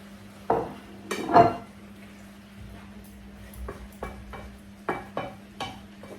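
Chopped tomatoes go into a simmering prawn masala in a pan, giving several sharp metallic clatters and clinks of a utensil against the pan, separated by quieter stretches of soft cooking noise. No one talks.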